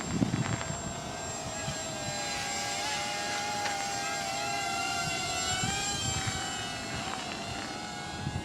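A Hubsan X4 micro quadcopter with camera flying outdoors in a light breeze, its tiny motors giving a steady high-pitched buzzing whine that shifts slightly in pitch as the throttle changes.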